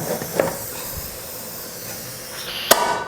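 A pressure cooker whistles, venting hissing steam while dal rice cooks, a steady breathy hiss with a couple of brief sharper bursts near the end, close by and without talk.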